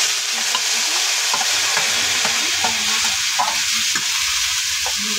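Gourd vegetables frying in a pan with oil and being stirred, a constant bright sizzle with repeated scraping and clinking of the spatula against the pan, close and loud, with no talk.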